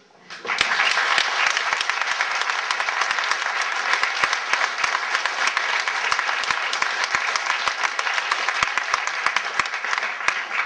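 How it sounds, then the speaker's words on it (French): A large gathering at a 75th-birthday tribute claps in sustained, dense applause for over ten seconds, steady and loud after a quick swell at the start. "j'aimerais bien qu'on l'applaudisse"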